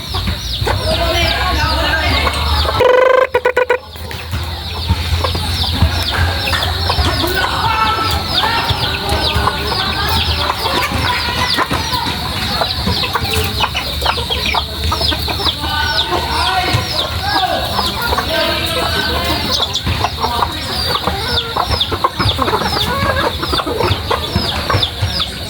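A flock of backyard breeding chickens clucking continuously and loudly nearby, with overlapping bird calls and a steady low background hum, and a brief dropout near the start.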